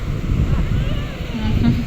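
Sea waves break and wash on a beach, a steady low surf rumble heavily buffeted by wind on the microphone, close and continuous throughout.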